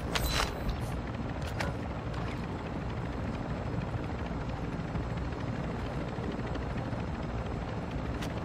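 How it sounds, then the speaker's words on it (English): Helicopter in the video game Warzone 2 thunders overhead with a continuous rotor drone, steady and fairly loud, punctuated by a few sharp bursts early on. "big chopper come back, little chopper come back"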